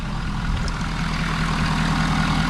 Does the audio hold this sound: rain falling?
no